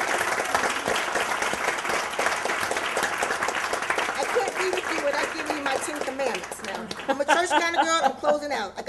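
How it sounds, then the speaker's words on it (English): An audience claps for a panel at a health disparities event in a steady, lively burst of applause with some light laughter, while a voice speaks over the clapping as it winds down. "Let's give them another round of applause"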